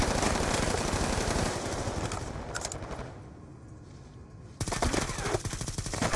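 Rapid machine-gun bursts from a Call of Duty Black Ops 2 firefight, loud and dense at first, thinning into scattered shots and quieter stretches before another close, heavy volley erupts near the end.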